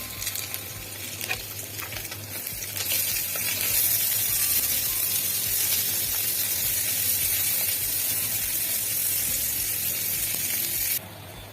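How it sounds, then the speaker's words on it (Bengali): Onions fry in a pan for a spicy dried pomfret curry with potato and eggplant. A steady, close hiss grows louder after a couple of seconds, holds at full strength, then drops away abruptly just before the end, with no talking. "পেঁয়াজগুলো একটু ভাজা ভাজা হয়ে গিয়েছে"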